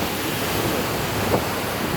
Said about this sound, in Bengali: ঢেউ আসতেছে, দেখছেন কত স্পিডে আসতেছে ঢেউ।